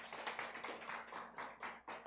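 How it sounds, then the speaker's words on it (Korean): Children clapping in a Sunday school class, a short run of quick, soft, uneven claps heard from close by in a quiet room, with no voices over them. "네, 박수 쳐주세요."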